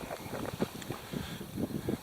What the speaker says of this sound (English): Okay, with it being so windy up here,